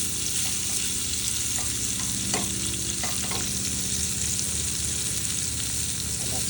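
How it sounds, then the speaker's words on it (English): Finely pressed and minced garlic fries in a pan. A loud, steady sizzle runs throughout, with a few faint stirring taps partway through. "And that's going to saute around."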